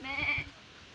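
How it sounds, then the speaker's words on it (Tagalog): A goat gives a single short nasal bleat up close, wavering for under half a second before fading into quiet outdoor background. "Tatlo po yung kambing."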